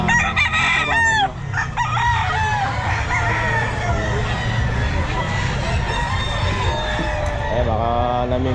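Chickens and roosters at an outdoor pet market, several cocks crowing in overlapping calls amid steady clucking and a busy crowd murmur, close and loud throughout.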